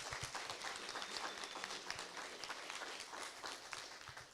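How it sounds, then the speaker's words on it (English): Faint, distant applause from an audience at a town council by-election candidates forum, a continuous patter of many hands clapping without a break. "another big round of applause for everything that they're doing."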